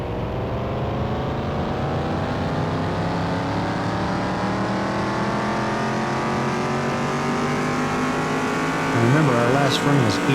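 Car engine in Car Mechanic Simulator 2021, freshly fitted with a new coil, held at a steady drone on a dyno, its pitch slowly climbing throughout before a sharper rev near the end, with a voice talking over it.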